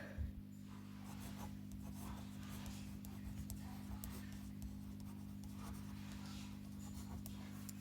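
A pen writes out a maths solution by hand on paper. The scratching is faint, close and continuous, with short stroke-by-stroke scrapes that run steadily throughout.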